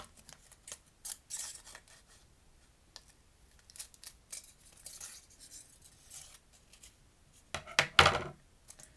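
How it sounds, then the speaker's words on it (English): Scissors snip through a small piece of fabric while a shirt for an action figure is being made, giving a series of short, close crisp cuts with pauses between them and a louder cluster near the end. "this piece is longer than the shoulders, so I'm going to cut a little piece off"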